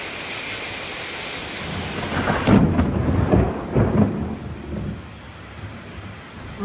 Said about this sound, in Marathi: पाऊस एकदम जोरात चालू झालेला आहे.